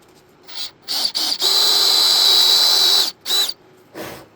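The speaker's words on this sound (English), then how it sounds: "Then I want to drill one hole." A power drill bores a hole in wood for a 5/16 T-nut. A few short whirring bursts lead into one steady, high-pitched run of about two seconds, followed by brief stop-start pulses, close and loud, with no voices.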